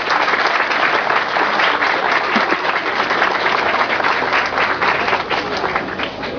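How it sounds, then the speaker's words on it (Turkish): Sustained loud applause from a large crowd at a sailing regatta's final ceremony, dense steady clapping that carries on for several seconds without letting up. "onlara büyük bir alkış istiyorum sizden."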